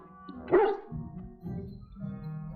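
A war hound in the fantasy video game Dragon Age: Origins gives one sharp bark. A low, rumbling whine follows, set against faint background music in the game.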